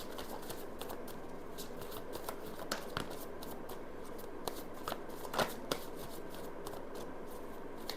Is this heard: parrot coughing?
no